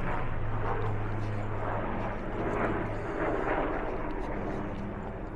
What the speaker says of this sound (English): A helicopter.